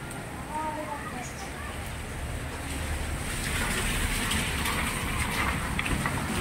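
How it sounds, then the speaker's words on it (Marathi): Heavy, continuous rain pours in Pune, a dense unbroken hiss that swells slightly louder toward the end. "पूर्ण मुसळधार पाऊस चालू आहे बघा पुण्यामध्ये"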